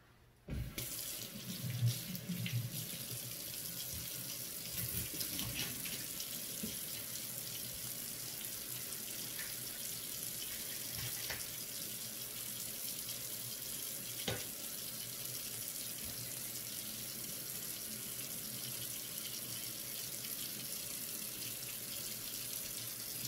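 A kitchen tap runs steadily as vegetables, onion and green pepper, are rinsed beneath it, the water splashing loudly at first then settling into a constant close stream.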